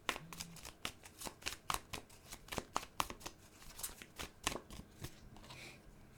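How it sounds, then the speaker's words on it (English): A tarot deck is shuffled by hand, a quick run of crisp riffling card flicks close to the ear, ending as one card is drawn, soft and without talk. "I'm going to pull one final card."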